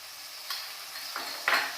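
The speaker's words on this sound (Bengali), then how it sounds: "টমেটো পেস্টটা একটু ভালো করে ভেজে নিতে হবে" Tomato paste frying in a pan for restaurant-style chicken dry chilli, a soft steady sizzle with a few brief scraping stirs, close and quiet, no voices.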